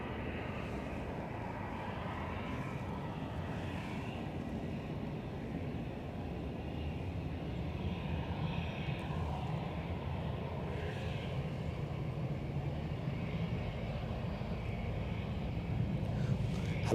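An Aer Lingus airliner departs Edinburgh for Dublin, heard as a faint, steady distant jet rumble that holds evenly throughout with no voices over it.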